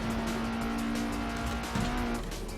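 An FSO Polonez lapping the Nürburgring gives a steady, droning engine note heard from inside the car, with a brief shift in pitch near the end as it runs over a jump.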